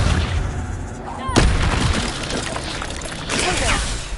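A spell cast in the video game Hogwarts Legacy bursts out as a sharp, loud blast around the midpoint, then fades into a rumbling, crackling effect that swells again toward the end.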